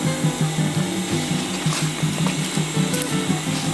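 A sewing machine double-stitches the seam of a boxy fabric bag, giving a loud, continuous mechanical whir with a rapid, regular needle rhythm.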